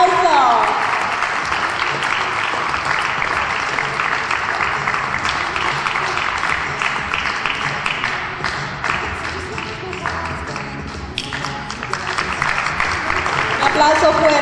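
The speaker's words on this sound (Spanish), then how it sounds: "¡Un aplauso!" Steady, full applause from a crowd at a beauty pageant final, dense continuous clapping with cheering and voices underneath, holding at a loud level throughout.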